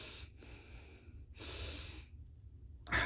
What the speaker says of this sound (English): you can also do is alternate nostril breathing like this